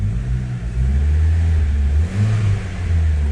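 A Lancia Delta 1.4 turbo engine revs up and holds at a higher pitch, dips, then rises again, close by with a steady low rumble.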